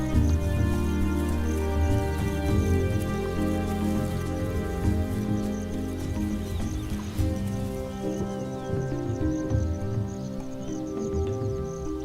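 Steady rain falling over open land in the rainy season, a dense continuous patter at moderate level with no voices.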